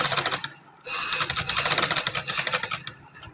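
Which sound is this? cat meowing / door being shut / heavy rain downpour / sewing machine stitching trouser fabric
sewing machine stitching trouser fabric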